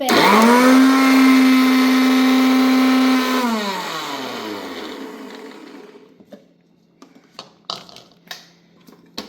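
An electric mixer grinds washed ginger and garlic into paste, its motor whining loud and steady, then spinning down with a falling pitch, followed by quiet clinks and taps as the jar is handled.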